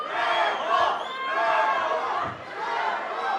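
A boxing club show crowd roars and cheers for fighter Victor Trejo Garcia, a dense, loud, sustained wash of shouting voices filling the room throughout.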